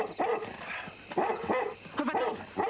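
A dog barks in several sharp bursts, close and loud, with whimpering yips between the barks in a tense indoor scene.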